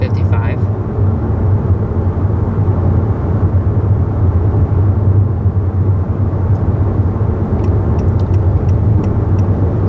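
Steady low cabin road noise inside a 2021 Honda Accord Sport SE cruising at 55 mph, a constant dull hum and rumble with faint ticking clicks near the end.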